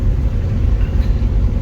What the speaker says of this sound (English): I am totally in love with how this Tsudo sounds. It's got that really deep rumble that I absolutely love.